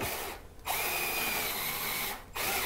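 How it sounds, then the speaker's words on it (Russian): A power drill bores dowel holes through a drilling jig into wood, whining loud and close in two sustained bursts separated by short pauses, with no talk over it. "Теперь мы ставим наш кондуктор, упираемся в нижнюю часть и сверлим отверстие."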